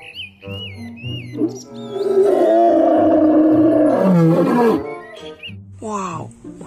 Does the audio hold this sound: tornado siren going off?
no